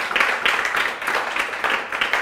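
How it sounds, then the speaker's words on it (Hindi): An audience applauds together for a group in a classroom-style session, dense sustained clapping running steadily throughout with slight swells, fairly close and loud. "एक बार ताली आप सभी के लिए"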